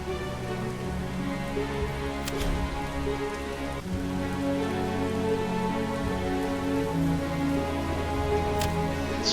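Driving rainstorm in the medieval strategy game Manor Lords, a steady loud hiss of rain pattering on surfaces throughout, with no voices.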